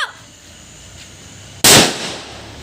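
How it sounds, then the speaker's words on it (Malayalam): A large Onam firecracker bursts in one sudden, loud bang after a quiet stretch, then trails off in a brief rumbling echo. "ഇപ്പം പടക്കം പൊട്ടിക്കാൻ മൂന്ന് കൊലപ്പടക്കമാണ് തോക്കൊക്കെ മേടിച്ചിട്ടുണ്ട്."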